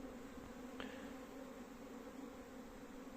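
A steady, low insect drone of honeybees flying, continuous and moderately faint, with a brief higher buzz passing near the start.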